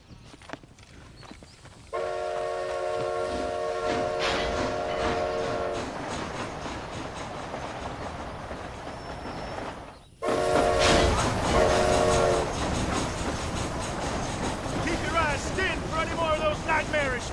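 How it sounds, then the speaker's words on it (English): A train runs in Red Dead Redemption: Undead Nightmare, a continuous rumbling clatter that cuts in after a quiet start, with horn-like tonal blasts, a brief gap, then a louder stretch of rolling noise and more horn tones. "This train headed for Mexico?"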